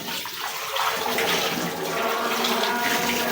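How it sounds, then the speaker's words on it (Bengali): Dishes being washed under a running tap, a steady broadband rush of flowing water with faint clinks, continuous and close throughout with no talking. "আমি এখন এই থালবাড়িগুলো ধুয়ে নিতেছি।"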